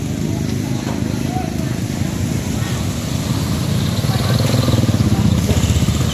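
A loud, steady low engine rumble as a motorcycle passes with a throaty drone, growing slightly louder toward the end, with a voice speaking briefly.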